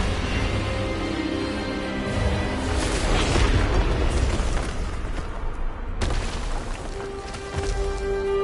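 A spell effect in the video game Hogwarts Legacy, the Expelliarmus disarming charm, heard as a dense, roaring magical blast that swells and rumbles for several seconds, then cuts to a thinner lingering tone.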